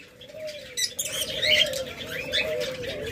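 Caged doves, cockatiels, lovebirds and budgerigars at a bird farm, overlapping chirps and tweets over a low continuous cooing, with a brief flutter of wings.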